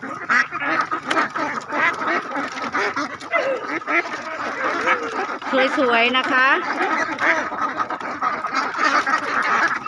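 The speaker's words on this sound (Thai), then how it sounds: "เนื่องจากเป็ดเพิ่นตกใจ ขี่ตกใจ" A flock of startled Khaki Campbell laying ducks quacking noisily and continuously at close range, with someone speaking Thai over the clamor.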